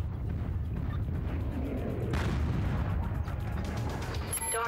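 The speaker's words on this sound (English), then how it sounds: "I want you to stand around here and just pelt them with long-range missiles" Long-range missiles fire in MechWarrior 5, a dense rumbling barrage of booms and bursts that swells midway, ending with a short electronic beeping tone.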